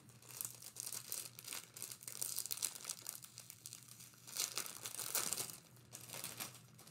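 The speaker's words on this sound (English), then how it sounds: "there's going to be crinkly noises" Packaging crinkles and rustles in uneven, close bursts while a holiday gift is unwrapped, with brief tearing-like crackles and no talking.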